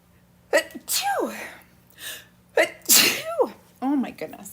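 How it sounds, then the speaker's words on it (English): Two loud sneezes in quick succession from a woman working on a box-frame craft, each a sharp burst with a falling tail, followed by brief spoken remarks close to the microphone. "Achoo! Oh my goodness. Excuse me."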